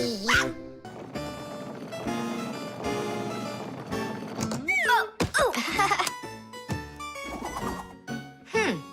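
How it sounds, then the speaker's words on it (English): Cartoon dog barking and yipping in a children's animated show, several short barks scattered among music and character voices, with speech around them. "I should listen more closely to this smart little dog of ours."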